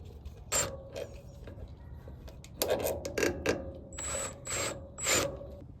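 Bolt being fastened into a bracket on a Kubota diesel zero-turn mower with a ratchet wrench, quick clicking ratchet bursts and metallic creaks in short close-up clusters over quiet background.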